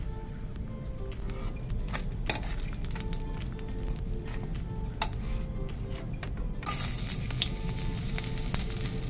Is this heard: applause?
no